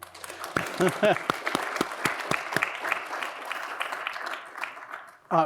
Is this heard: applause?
yes